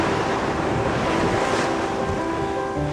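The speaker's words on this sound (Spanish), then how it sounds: "esta es la playa del Mar Caribe" Continuous broadband roar of surf and wind on a Caribbean Sea beach, steady and loud throughout with gusty microphone wind noise and no voices.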